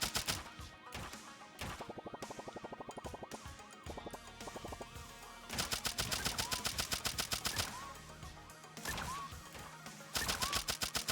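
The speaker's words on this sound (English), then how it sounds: "Take out the man with the toaster gun." Rapid bursts of cartoonish toaster-gun fire from the video game Turnip Boy Robs a Bank, coming in repeated volleys of clipped shots with short pauses between them and loud, busy game sounds all around.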